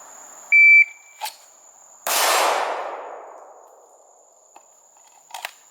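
A shot timer at a pistol range gives a short, loud electronic beep, followed about a second later by a sharp ringing clang from a steel target that slowly decays, with faint clicks afterward.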